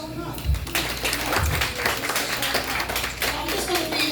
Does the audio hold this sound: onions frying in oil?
no